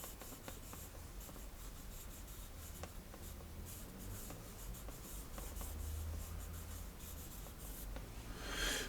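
A pencil sketches a portrait on paper, with continuous close, soft scratching and rubbing strokes that vary in pressure, alone and quiet, with no talk.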